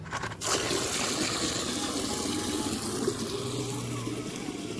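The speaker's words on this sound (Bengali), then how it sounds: "কলটা খুলি" A tap on a balcony is opened after a short click, and water gushes out in a steady, close, continuous stream.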